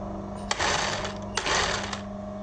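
Sewing machine stitching a crystal-trimmed kaftan, running in two steady whirring bursts separated by a brief pause, close and clear with a faint background hum.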